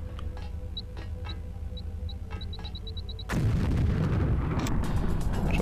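A thrown grenade in the video game Deus Ex detonates with a sudden heavy blast after quiet ambience and sparse beeps, followed by a loud rumbling, crackling roar that lingers to the end.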